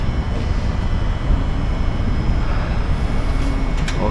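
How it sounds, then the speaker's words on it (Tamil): A loud, steady low rumble of a tram train rolling in nearby in Turin, Italy, a continuous heavy roar with faint metallic squeals near the end. "இனி ஒரு ட்ரெயினே வந்துருச்சுங்க நம்ம வந்த ரூட்டில் இருந்து."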